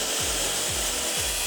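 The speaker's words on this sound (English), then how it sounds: "Cutting 4 legs from some leftover studs." A saw cutting legs from leftover wooden studs, three short strokes in steady rhythm close by, under a constant loud whooshing hiss.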